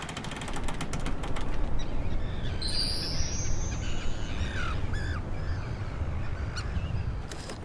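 Harsh tern calls ring out over a steady roar of wind or surf, a few sharp cries standing out midway.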